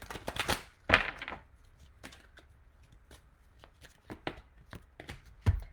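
Tarot cards being shuffled nearby in a few quick riffling bursts, followed by scattered soft taps and clicks, with no talking.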